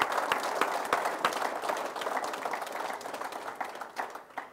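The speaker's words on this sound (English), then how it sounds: "A big round of applause for the guys that worked with Peter." An audience inside the MotoMan Studio at the Petersen Automotive Museum claps, with distinct individual claps standing out within a lively, uneven round of applause that gradually thins.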